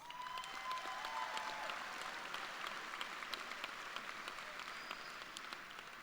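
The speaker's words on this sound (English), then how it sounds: "Give yourselves a round of applause." A graduation audience of families and friends claps at a school-for-the-arts ceremony, a fairly faint, distant patter of many hands with scattered sharper claps standing out.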